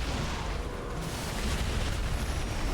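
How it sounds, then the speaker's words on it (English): Explosion from shooting crystals in the Earth Defense Force 4.1 video game, a sustained loud rumbling blast with dense low-end roar and no clear individual peaks. "there's a huge explosion every time we get the crystals"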